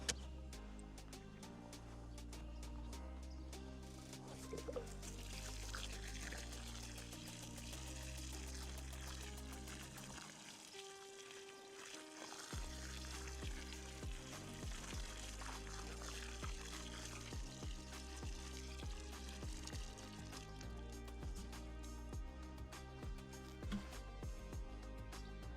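Water poured into a freshly dug planting hole with compost and fertiliser in a garden, a soft continuous pouring and trickling, quiet and close, with a short pause midway.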